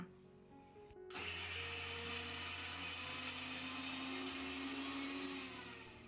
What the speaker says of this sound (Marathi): हे संपूर्ण साहित्य मी मिक्सरला थोडंसं जाडसर फिरवून घेणार आहे अजिबात पाणी न घालता